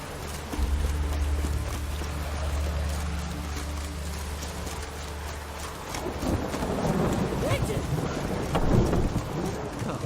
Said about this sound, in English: Rain, and here it is.